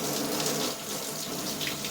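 An LED temperature-sensing shower head on its mist setting sprays a steady, soft hiss of fine water, a continuous broadband wash that stays even and unbroken throughout, with no voices.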